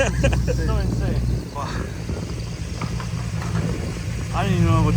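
A Nissan Skyline R34 GT-R V-Spec II idles with a steady low rumble that sits underneath nearby talking for the whole stretch.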